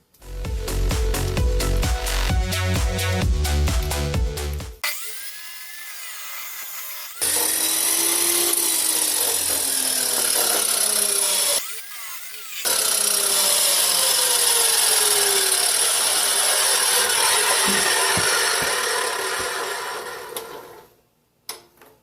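Steel tube being cut for a drift car's new core support, a loud close grinding cut that runs in long stretches broken by brief pauses, with rising and falling pitch, and no speech.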